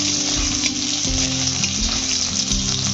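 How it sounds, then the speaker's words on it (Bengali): Potatoes frying in a pan with a steady, close, loud sizzle, while a low hum and a few stirring knocks sit underneath; no one speaks. "এখন ভেজে নেবো। দেখো ভাজা হয়ে গেছে।"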